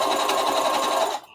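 Sewing machine stitching a circle dress, a fast steady mechanical whir running loud and close for about a second before stopping abruptly.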